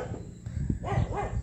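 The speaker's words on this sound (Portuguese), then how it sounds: "Tem uns cachorros que estão querendo participar aqui da nossa" Dogs bark a few times at moderate distance, short yelping barks in quick succession over low background noise.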